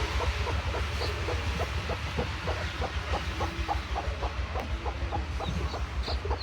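Hens clucking inside a home village poultry shed where ducks, pigeons and a brooding hen on eggs are kept, rhythmic repeated clucks close by over a steady low hum, no voices.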